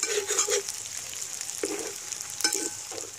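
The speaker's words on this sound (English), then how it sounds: "All that you see here is the fat which is released by the meat, and the masala which we had made earlier is now being added" Masala added to hot duck fat in a pan over open-fire cooking, a close, crackling sizzle with bursts of spattering and stirring scrapes, alone.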